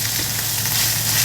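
Pork searing in a hot pan, a loud steady close sizzle with a bright frying hiss that stays unbroken throughout, no talking.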